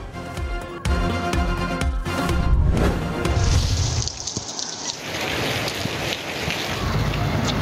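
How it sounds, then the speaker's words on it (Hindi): Rain falling in Rawalpindi, a dense hiss of drops on surfaces, with scattered heavier splashes and a short burst of clatter early on. "रावलपिंडी के मुख्तलिफ इलाकों में भी बारिश।"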